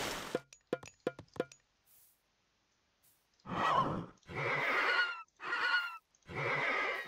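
A horse in the Age of Mythology video game gives several loud whinnies in close succession after a few sharp clicks and a short pause, heard clearly with no talk over it.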